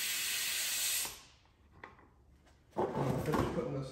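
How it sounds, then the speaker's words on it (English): Loud, steady hiss as pressure is let out of an LQ4 LS engine's oil priming system by loosening a lid. It fades after a second, then a second strong rushing burst follows with a thump. "Just loosen the lid and let the pressure out of the system here."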